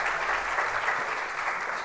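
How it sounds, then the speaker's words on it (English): Audience applause at the Barcelona Deep Tech Summit 2022, a dense continuous patter of many hands clapping at moderate loudness for the whole clip. "A big applause for them, please."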